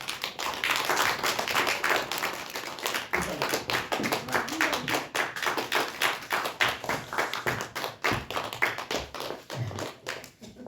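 Congregation at a Korean Baptist church service clapping after a baptism certificate is read, a dense patter of many hands filling the room, sustained for several seconds and tapering with some irregular louder claps near the end.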